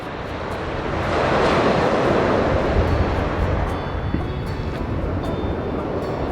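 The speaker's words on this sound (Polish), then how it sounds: "Siedzimy sobie tutaj nad oceanem" Steady roar of ocean surf breaking on a shore where bodyboarders ride, loud and continuous with heavy wind buffeting the microphone throughout.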